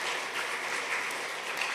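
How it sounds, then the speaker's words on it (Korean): A church congregation claps during a Sunday worship service, welcoming newly confirmed members with a dense, even round of applause filling the hall, continuous and fairly loud for its brief span. "박수 보내주세요"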